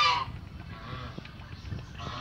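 A Thai domestic duck gives one brief quack at the start, followed by quieter farmyard ambience with faint movement.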